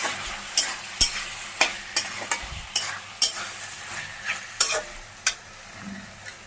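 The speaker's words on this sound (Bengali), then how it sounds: "এখন ভালো করে নাড়িয়ে চেড়ে নিচ্ছি।" A spatula scrapes and knocks in a frying pan of chicken with fried carrots, sharp regular strikes about every half second over a low sizzle, no voices.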